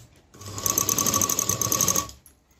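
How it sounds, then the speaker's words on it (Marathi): A sewing machine runs steadily for about two seconds, stitching a tuck on a blouse, with a loud, even mechanical whir and fast rhythmic needle clatter that starts and stops cleanly. "तर त्यासारखाच हा पण टक्स मी असा फोल्ड करते आणि शिलाई करून घेऊया."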